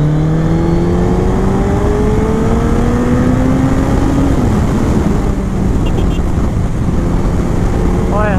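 A Yamaha R1 sport motorcycle accelerates hard on an open stretch of road. Its engine pitch climbs steadily through a gear and then drops at a shift, loud and close under heavy wind noise.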